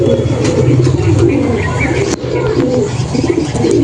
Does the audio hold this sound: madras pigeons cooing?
yes